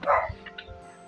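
A Shih Tzu barks at home: one loud, close yap at the start, then a few fainter sounds over a light hum of background noise.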